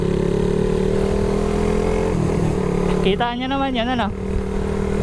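Honda R150 Fi motorcycle on a 14-41 sprocket pulls hard in a drag race, a steady engine drone giving way to a loud rising rev sweep, with people talking over it.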